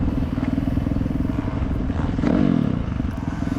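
A motocross dirt bike buzzes loudly and continuously on the MX101 track, its engine pulsing rapidly with a brief surge in revs midway, heard close with wind and chassis rattle.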